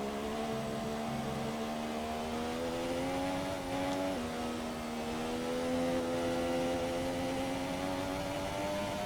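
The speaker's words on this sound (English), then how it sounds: "You can just hear the car stuttering all the time." A Formula 1 car engine in F1 2017 drones steadily at high revs on a wet track, stuttering with a slight hitch and pitch shift midway, continuous and fairly faint, like a game soundtrack.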